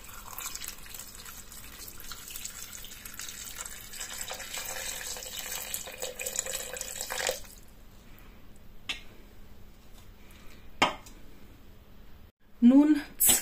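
Water is poured into a Thermomix TM6 bowl while making a white cabbage and potato stew with caraway. It is a steady, splashing pour lasting about seven seconds, then it stops, followed by a few short clunks.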